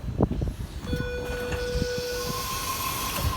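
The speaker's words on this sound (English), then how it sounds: "And a Tangara departing platform number 2, Waterfall service." A Sydney Trains Tangara set departs platform 2 at Mortdale, its rising motor whine and steady tonal hum building over rolling rail noise, close by and fairly loud with no talk.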